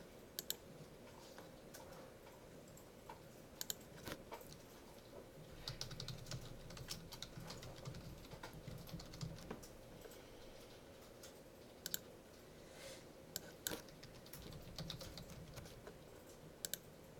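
Fingers type on a computer keyboard, quiet and close, in uneven bursts of key clicks separated by short pauses, with a few sharper taps standing out.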